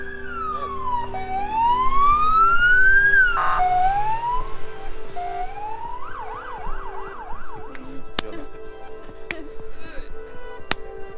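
A police car siren wails in rising and falling sweeps, then switches to a fast warbling pattern, heard outdoors with engine noise beneath and a few sharp clicks, while someone talks in Polish.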